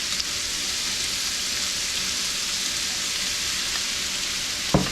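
Onion, carrots and celery fry and are stirred in a hot skillet for a sausage and black-eyed pea stew, making a steady, close, even sizzle throughout, with a light knock near the end.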